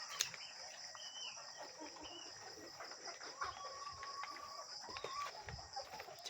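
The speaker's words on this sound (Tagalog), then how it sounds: "Check natin yung mga manok natin mga ka-farming" Chickens on a farm during hot weather, faint scattered clucks and a distant rooster call over a steady chorus of chirping insects, no talk.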